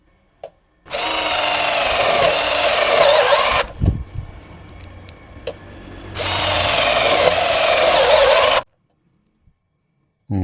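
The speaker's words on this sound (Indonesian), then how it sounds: "Kita coba pada media baja ringan ya, speed 2 mode drilling." A Xenon cordless drill on speed 2 drilling mode whines through light steel in two long bursts, with clicks and a thud between them, loud and close.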